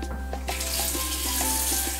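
Water runs from a household tap at a sink during washing, a steady close hiss that rises after a brief start, with soft intermittent clinks and knocks, and no talk.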